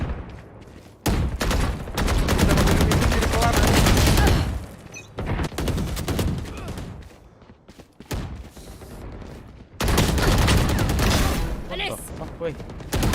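Bursts of loud automatic gunfire and impacts in the Valorant match, stopping and starting several times, with voices talking over parts of the action.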